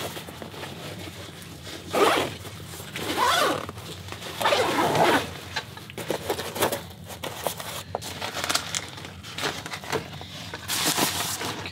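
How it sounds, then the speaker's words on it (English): Zippers on new Vanquest gear are worked back and forth over and over, a continuous run of close, raspy zipping pulls with crinkly fabric handling and no talk. "Messing with the zippers here."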